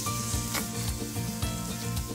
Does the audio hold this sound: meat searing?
yes